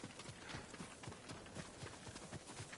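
Horse hooves clip-clop in a steady rhythmic gallop in the video game Ghost of Tsushima. The hoofbeats are close, even and continuous, with no talk over them.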